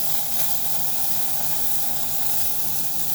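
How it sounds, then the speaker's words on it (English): Steady, loud hissing steam blasts from the steam wand of a Kanen Anza single boiler espresso machine after a full tune-up, holding a constant roar throughout with no talk. "As you can see, you get a nice good amount of steam in there for a single boiler."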